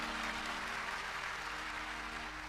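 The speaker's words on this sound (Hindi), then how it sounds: "और जोर से बजाइए ताली" Steady, dense applause from an audience at a Sundarkand religious discourse, continuous and fairly loud throughout with no pauses or speech over it.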